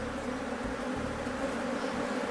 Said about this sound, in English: He says there is an aggressive beehive close by, and he suspects it might be inhabited by killer bees.